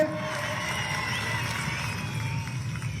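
A large crowd at an Amit Shah public rally in Chevella, Telangana, cheers and claps in a steady, dense roar that holds loud for about three seconds.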